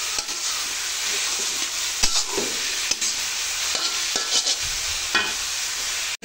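Boitta shak greens stir-fried in a pan sizzle and hiss steadily, with repeated scraping stirs and clinks of a spatula against the metal, close and without talk.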